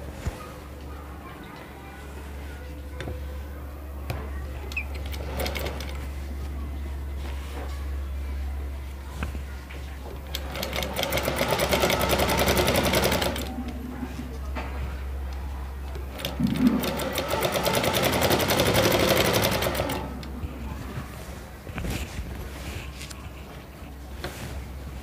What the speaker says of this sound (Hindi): उसके बाद हम यहाँ से इसको सिलना स्टार्ट करेंगे